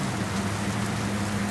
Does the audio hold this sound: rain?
yes